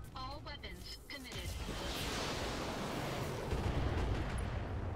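Mech weapons in a tabletop-style video game battle, including SRM-6 missile launchers, fire all at once in a dense, rumbling barrage that swells into a sustained roar of explosions and impacts, loud and continuous.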